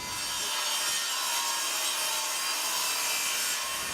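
Steady hand sawing through a wooden balustrade panel to trim it, a continuous rasping stroke-after-stroke sound, close and fairly loud with no voices.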